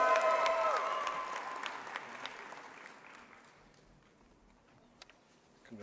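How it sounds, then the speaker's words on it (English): Loud applause from a crowd at a university graduation ceremony, dense clapping that gradually fades to scattered claps and quiet. "Bigger claps again"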